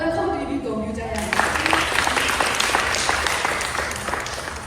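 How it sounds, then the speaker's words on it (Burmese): A brief stretch of talk gives way to a sudden burst of sustained audience applause at a ceremony. The dense clapping stays steady and full until the end. "ကျမတို့လက်ခုပ်တီးပြီးကုန်ပြကြရအောင်"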